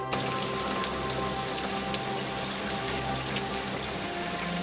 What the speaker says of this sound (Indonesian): tiba-tiba hujan datang sangat deras